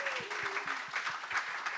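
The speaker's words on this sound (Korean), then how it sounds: "이렇게 뜨겁게 박수로 해주시니" Warm applause from a congregation at the grand opening and thanksgiving service of a mission centre, dense clapping throughout with a few louder individual claps near the front and faint voices mixed in.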